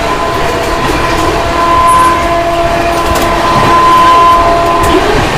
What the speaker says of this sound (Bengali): শিয়ালদা হামসফর এক্সপ্রেস ক্রসিং করবে কল্যাণী